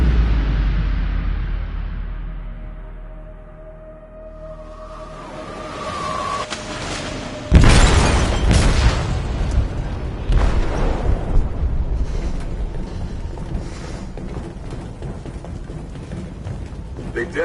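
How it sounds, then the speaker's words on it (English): An explosive detonates in a ship's hold in Detroit: Become Human: a low rumble swells, then a sudden loud blast erupts midway and gives way to a sustained roaring, crackling aftermath of debris and churning noise, with voices faintly mixed in. "They detonated an explosive in the hold."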